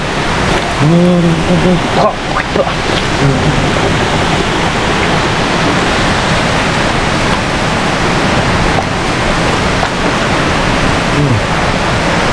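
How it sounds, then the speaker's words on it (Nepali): Water pours steadily from a spout in a constant rushing hiss, with a brief voice near the start. "सानो खाने पानीको धारा छ यहाँ"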